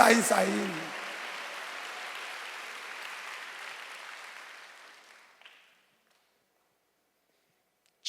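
A church congregation applauds during a Wednesday worship sermon. A voice at the very start gives way to a steady, soft wash of clapping that thins and dies out after about five seconds, leaving silence.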